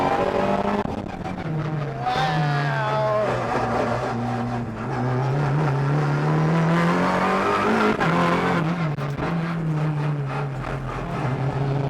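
Race cars drive a small London circuit, with loud, near engines whining and rising and falling in pitch through gear changes, plus bursts of tire squeal as they corner, continuous throughout.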